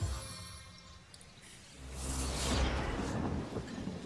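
A lightning spell from the game Divinity: Original Sin, heard as a rumbling thunderous crackle that swells from a hissing whoosh into a deep, loud, sustained roar and then slowly tails off.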